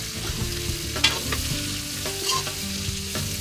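Cabbage and pork stir-frying for pancit in a pan, steady close sizzling with scraping stirs and a few sharp clanks of the utensil, no talking.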